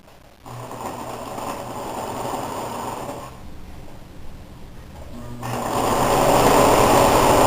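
A sewing machine stitches the under collar of a blazer, running in close steady bursts with a pause in the middle, then speeding up louder at the end.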